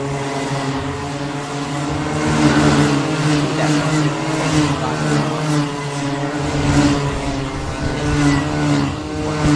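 Race machines on their warm-up lap at the one-kilometre Tangkak motor racing circuit during an Asia Max Challenge Micromax heat, a sustained buzzing engine drone that swells and fades as they circulate.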